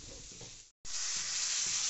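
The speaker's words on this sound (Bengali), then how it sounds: "পরিমাণ মতন কাশ্মীর লঙ্কার গুঁড়ো দেওয়া হলো, দিয়ে ভালো করে নেড়ে চেড়ে নেওয়া হচ্ছে।" Kashmiri chilli powder stirred into hot oil for a rohu fish curry with papaya and potato, giving a close, loud, steady sizzle with stirring scrapes, broken by one brief dropout near the start.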